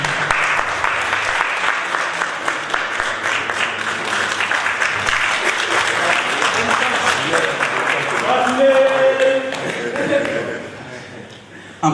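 Sustained audience applause at a trophy presentation ceremony, a dense crowd of hands clapping steadily for about ten seconds before tapering off, with some cheering and voices mixed in near the end.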